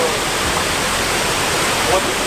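Clear water pours over a spillway in a heritage park in Kinmount, a dense continuous rushing roar, close and loud, with a voice faintly audible beneath it.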